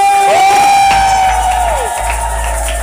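A crowd at a church celebration cheers and shouts loudly, with a sliding whistle-like cry rising over a dense, continuous roar of voices.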